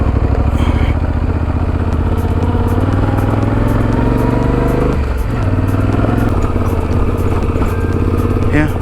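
A dual-sport motorcycle climbs rocky, loose off-road terrain in first gear, its engine a loud, constant, low rumble that dips briefly midway before pulling on with wind buffeting throughout.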